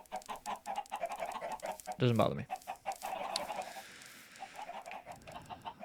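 Minecraft chickens clucking in a chicken coop, soft repeated game clucks running throughout at low level, with someone talking briefly over them.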